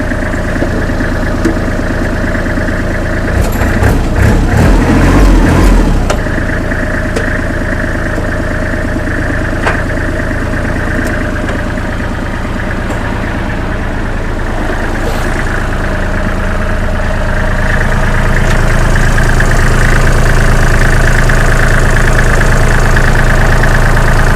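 A used Kubota L3408DT tractor with front blade and disc harrow idles steadily, its diesel engine giving a continuous low rumble and faint knock throughout, with a brief louder burst of mechanical noise early on and no talk.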